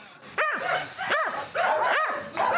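Several dogs bark repeatedly at an animal shelter in Vinnytsia holding about 250 dogs, a rhythmic series of sharp yelps, close and loud, with more barking echoing in the background.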